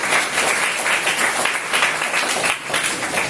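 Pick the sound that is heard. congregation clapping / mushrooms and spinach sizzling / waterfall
congregation clapping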